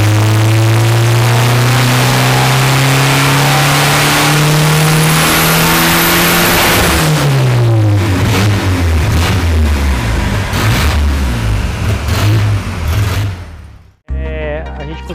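A turbocharged 1976 Chevrolet Opala with an all-original engine roars through a full pull on a dynamometer, revving loud and climbing steadily before easing, then cutting off abruptly near the end.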